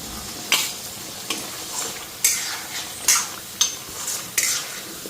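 Masala spices frying with potatoes in a pan, with a steady low sizzle and several sharp scraping stirs of a spatula against the pan at irregular intervals, close and moderately loud.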